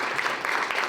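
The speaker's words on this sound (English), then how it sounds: "I want to ask everyone for a great round of applause" An audience applauds its two event hosts at a university gathering, a steady dense wash of clapping filling the whole moment without pause.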